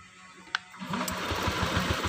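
Honda Beat FI scooter engine struggling to run after water is sprayed toward the spark plug, a sharp click and then an uneven, sputtering putter that pulses irregularly as it misfires, close and fairly loud.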